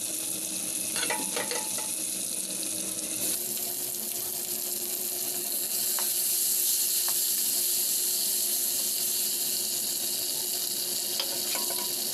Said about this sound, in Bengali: তেলে একটু ভাজি নিব